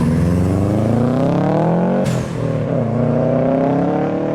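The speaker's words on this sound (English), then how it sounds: "Why is it that a Subaru 4-cylinder sounds like this?" A Subaru boxer four-cylinder engine revs up with a rumbly, uneven burble, drops off briefly, then climbs again, loud and close.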